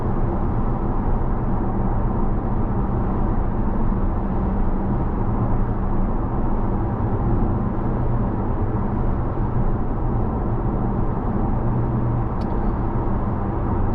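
Steady broadband road and wind rumble inside the cabin of a 2023 Nissan Altima being driven on a windy day, a constant moderate hum with no talk.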